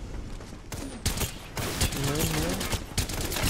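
Rapid bursts of gunfire in the Apex Legends video game ring out loud and close, with sharp broadband cracks repeating through the clip while a person speaks over the shooting.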